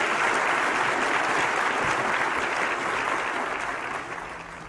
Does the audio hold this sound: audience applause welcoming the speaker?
yes